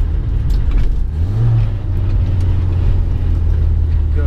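A 1991 Rover Mini Cooper engine accelerates from inside the car with a steady, loud low drone. The rise in revs is gradual, and no voices are present.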